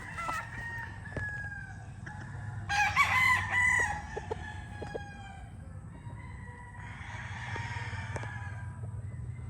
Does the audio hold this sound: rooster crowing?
yes